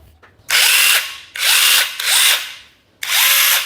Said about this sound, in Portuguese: Vem também adaptador de motosserra